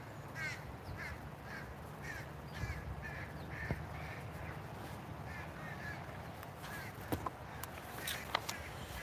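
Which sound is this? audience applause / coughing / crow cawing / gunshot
crow cawing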